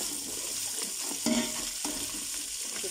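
Onions, garlic and ginger fry in a pan, a continuous moderate sizzle with a few soft stirring scrapes and a brief faint clink in the middle.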